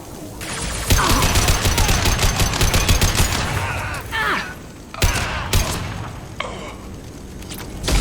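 Bursts of weapons fire in the Mass Effect 2 video game, rapid loud volleys punctuated by heavier booming shots and brief gaps, with several separate sharp blasts in the second half.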